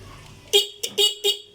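Four short, sharp motorcycle horn beeps in quick succession, loud and close, the last three bunched together, as a repaired horn is tested.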